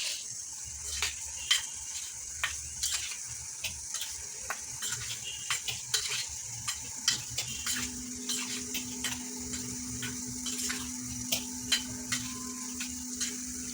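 Prawns are tossed with spice masala and lemon juice in a bowl, soft wet squelches and light taps of the spoon repeating in an uneven rhythm, close and quiet.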